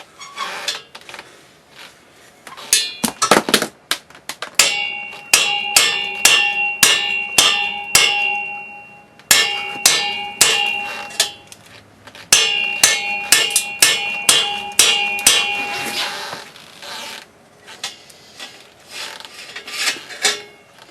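Metal hammer blows on a motorcycle header pipe being repaired, loud sharp strikes in rapid rhythmic bursts with ringing metallic overtones, several runs separated by brief pauses.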